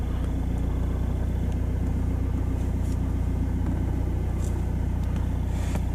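A BMW X3 raised on axle stands rolls in second gear with the clutch let out, giving a steady, continuous engine and drivetrain rumble with faint ticking on top, close and unbroken throughout.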